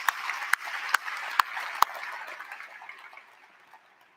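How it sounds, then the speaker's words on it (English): A commencement audience applauds in memory of Joe at a 2021 graduate ceremony, a steady wash of clapping with a few sharp near claps early on, thinning out and fading almost to silence by the end. "Let's give Joe a short round of applause"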